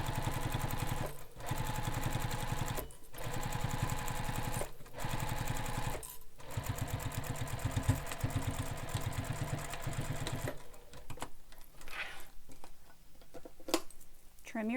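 Sewing machine stitching across the pinned, pressed edge of a fabric bag, with steady running bursts broken by short pauses for back stitching, then stopping near the end as faint handling noises follow.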